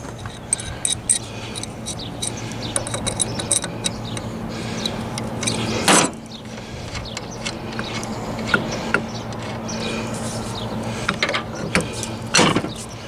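A crescent wrench works a bolt on Harbor Freight gear, giving soft metallic clicks and ratcheting taps scattered over a low steady hum, with a couple of sharper clanks standing out.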